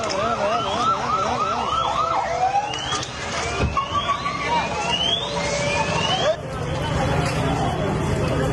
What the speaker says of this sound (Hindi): एम्बुलेंस और फायर ब्रिगेड की भीड़ लगी थी